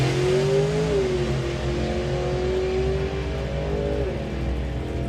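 A nostalgia drag racing car at Santa Pod Raceway roars loudly and continuously as it accelerates hard, its pitch climbing and shifting through gears.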